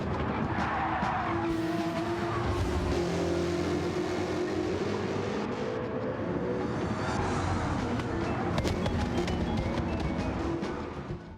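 An LS-swapped DeLorean races around the Nurburgring in Gran Turismo 7, its V8 roaring steadily throughout while tyres squeal and skid through corners, loud and continuous with no talk.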